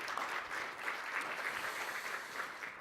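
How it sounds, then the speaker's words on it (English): A keynote audience gives the marketing team steady, thick applause, a continuous wash of many hands clapping at even loudness throughout. "Round of applause for the marketing team."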